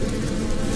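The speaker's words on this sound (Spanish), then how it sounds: "el ruido constante de aquellos horribles insectos que no lo dejaban en paz" A dense swarm of flies buzzes over a dead dog, a loud, constant, close drone with no pause.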